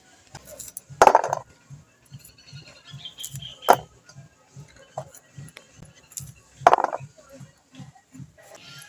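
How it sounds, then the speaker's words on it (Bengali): A knife cuts washed, tender young hog plums (amra) with a steady rhythm of soft chopping taps, broken by a few louder metallic clinks and rattles, close up and without speech. "পরিষ্কার করে ধুয়ে আমি আমড়াগুলো কেটে নেব।"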